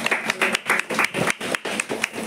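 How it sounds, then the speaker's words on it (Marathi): An audience claps together at a Buddhist Guru Purnima gathering, sending out loud, fairly rhythmic bursts of hand claps that come in repeated waves, close and dense, with no speech. "एकदा जर आपण सर्वांनी जोरदार टाळ्या वाजवायच्या आहेत"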